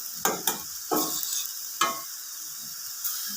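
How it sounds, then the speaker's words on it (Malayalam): A ladle stirs a Kerala-style bean thoran in a pan, making a few distinct scraping strokes at uneven intervals over a faint sizzle, close by, with no one speaking. "ഇടയ്ക്കിടയ്ക്ക് ഇത് തുറന്ന് നോക്കി ഒന്ന് ഇളക്കിയ ശേഷം അടച്ചു കൊടുക്കാം"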